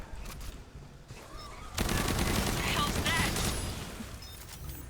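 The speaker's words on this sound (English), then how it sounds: "I love using this auto shotty" Rapid automatic shotgun fire from the Gunner class in the video game Aliens Fireteam, a dense sustained burst of blasts starting after a quieter opening and running to the end.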